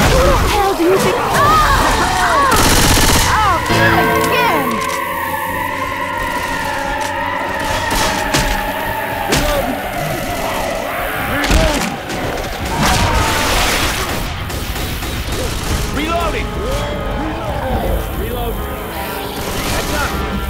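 Gunfire during a Left 4 Dead 2 match on Xbox 360, dense overlapping shots and booms under wailing siren-like game noise, loud and continuous, with players shouting over the chaos.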